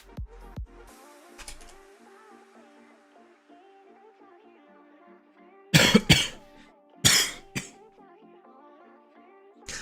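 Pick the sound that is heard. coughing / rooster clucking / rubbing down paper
coughing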